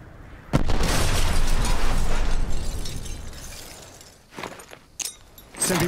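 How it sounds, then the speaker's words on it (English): A frag grenade detonates in a Black Ops shooter game, one loud booming blast that rumbles and decays over several seconds, followed by a few quieter bursts and clatter near the end. "Throwing frag!"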